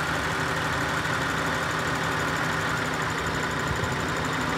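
An Acura TL engine with random multiple misfires idles at low revs near 600 RPM during a cylinder test, a steady close rumble with an uneven, slightly knocking pulse.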